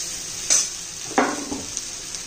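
Sabudana tossed into potatoes frying in hot oil, then stirred: a soft sizzle underneath with a scrape at about half a second and another stirring scrape at about one second, and a few lighter knocks after that.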